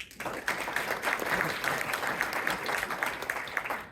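Sustained applause fills a city council meeting in Merriam, Kansas, a room of people clapping steadily and fairly loudly for several seconds without pause.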